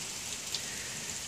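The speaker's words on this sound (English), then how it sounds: "And the rain." Rain falls steadily outdoors, a soft, even hiss with a few faint droplet taps standing out over a brief moment.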